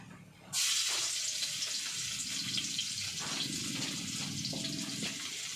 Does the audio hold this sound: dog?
no